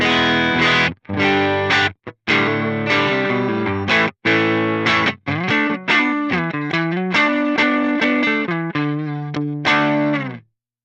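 A loud electric guitar on the neck pickup, with a warm, thick tone, plays chords and then a run of single notes, with brief gaps between phrases.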